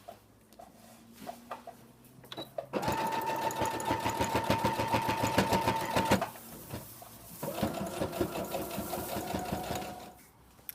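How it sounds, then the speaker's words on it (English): A sewing machine stitches close to the edge, joining the bodice of a dog dress to its skirt, in two loud, steady runs of rapid needle chatter separated by a short pause, with faint handling sounds before the first run. "I'm going to go ahead and sew really close to this edge"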